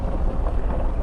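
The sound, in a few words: 2008 Suburban driving with new engine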